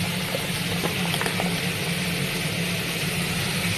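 Ground spices with turmeric frying in a pan, giving a steady, dense sizzle that holds evenly throughout with no talk over it.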